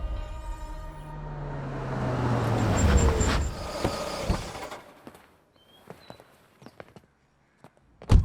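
A worn-out old car pulls up, its engine rumble swelling loud and close before cutting off, followed by sparse clicks and knocks in near silence and a sharp thump at the end.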